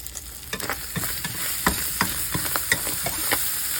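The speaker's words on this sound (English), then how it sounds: "mix this up. I'm going to get that mixed up." Chopped cheese meat being stirred and scraped on a sizzling griddle, with a steady hot sizzle under repeated sharp metal spatula clicks in an uneven rhythm.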